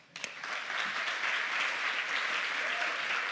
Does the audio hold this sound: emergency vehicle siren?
no